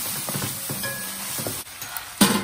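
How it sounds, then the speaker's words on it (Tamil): Ginger garlic paste sautés in a pan, giving a steady low sizzle with soft scraping from stirring, and a brief louder clatter near the end. "அந்த இஞ்சி பூண்டு ஸ்மெல்லோட இஞ்சி பூண்டு பேஸ்டோட அந்த ராஸ் ஸ்மெல் போற அளவுக்கு கொஞ்சம் வதக்கிக்கோங்க"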